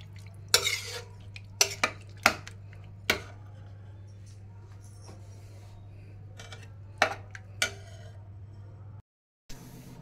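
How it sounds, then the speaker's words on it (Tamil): Boiled bottle gourd is stirred into a pot of kulambu, with a cluster of sharp ladle clanks and scrapes against the vessel early on, then quieter stirring over a low steady hum. "சுரைக்காவை வேக வச்ச சுரைக்காவை இதில் கொட்டிடணும். நல்லா கிண்டி விடணும்."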